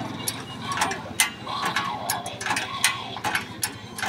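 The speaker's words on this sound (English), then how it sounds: "Push that up, and then start jacking." A Hi-Lift jack being ratcheted upward against a Toyota Hilux during a 4x4 recovery, with repeated metallic clicks and clunks of the pawl in a steady pumping rhythm, close and fairly loud over a low engine-like rumble.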